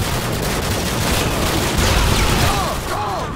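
Dense, continuous gunfire and booming explosions fill a Modern Warfare 2 firefight in which a grenade launcher is fired, the shots and blasts blurring into a loud, steady barrage with no clear gaps.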